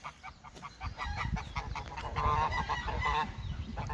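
Normandy geese honk repeatedly in a noisy, overlapping chorus, loud and fairly close, with no talking.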